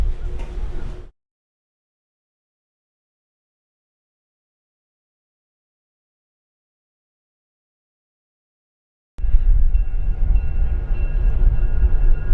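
A Heritage Valley Railroad locomotive runs around its train on a heritage line, a low, steady rumble of engine and rail noise, close and fairly loud, with a long stretch of silence between a short opening burst and the later sustained run.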